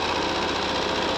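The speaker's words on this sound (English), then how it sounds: "So you just sew down it" A sewing machine runs steadily, stitching long quilt rows for a beginner layer cake quilt without stopping, a continuous close motor hum with a fast mechanical needle rhythm throughout.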